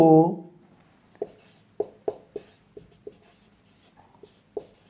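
Chalk or marker strokes tap and scrape on a board during a Class 11 maths lesson on straight lines, coming as sharp, irregular ticks after a brief spoken word at the start.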